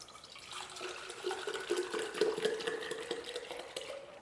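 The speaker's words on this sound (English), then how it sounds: "So I'm gonna go ahead and just water where the main stem is here." Water trickles and splashes faintly as a houseplant is watered at the base of its main stem, a soft, close pouring sound with no talk.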